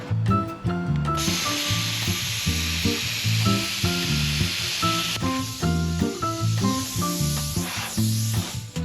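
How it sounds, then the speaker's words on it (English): A Hynade plasma cutter slices a small piece off the end of metal stock at 50 psi, giving a steady, loud, bright hiss that runs for most of the stretch beneath background music. "they're recommending 50 psi for cutting this thickness of metal"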